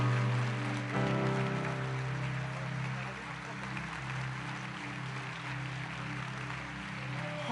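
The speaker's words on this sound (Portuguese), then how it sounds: "Você pode aplaudir mais forte o Senhor aí?" Church congregation clapping harder, dense continuous applause from many people under held keyboard chords, staying fairly loud throughout.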